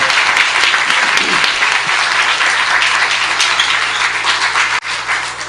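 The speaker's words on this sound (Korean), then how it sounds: "다시 한번 우리 박수 한번 주십시다." A church congregation applauds, a loud, sustained burst of many hands clapping together that fills the space and dips briefly near the end before carrying on.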